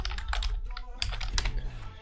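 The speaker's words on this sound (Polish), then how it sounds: "zaznaczamy na klawiaturze, klikamy T i zmieniamy na przykład na..." Quick, uneven clatter of keys being typed on a computer keyboard, close up, in two short bursts with a brief pause between.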